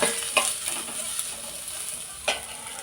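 Onions and green chillies frying in a pan, with a steady sizzle throughout and a couple of sharp scraping stirs from a spoon against the pan.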